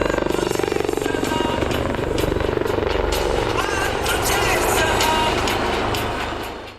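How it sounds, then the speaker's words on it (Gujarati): Indian-made Sarang display team helicopters fly formations over Air Force Station Jamnagar, producing a loud, continuous rotor and engine roar that holds steady throughout and fades slightly at the very end. "ભારત દેશની સ્વદેશી બનાવટનું હેલિકોપ્ટર સારગ હેલિકોપ્ટર યુનિટ કે જેના જવાનોએ આકાશમાં જુદી જુદી ફોર્મેશન કરતા લોકો આશ્ચર્યચકિત થઈ ગયા હતા"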